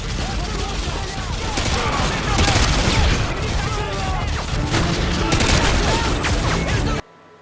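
Dense gunfire from a firefight with militia in Call of Duty: Modern Warfare 2, continuous loud bursts of automatic rifle fire and overlapping shots that cut off abruptly at the end, with voices mixed in.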